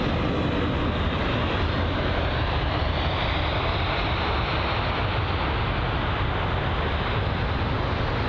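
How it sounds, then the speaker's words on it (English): A United Boeing 787 Dreamliner arriving from Denver at London Heathrow, its jet engines a loud, steady broadband roar that holds at an even level for the whole stretch, with no voices over it. "So this is the United 7878 Dreamliner from Denver"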